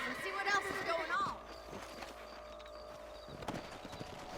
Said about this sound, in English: Ouais, le cheval, il a peur.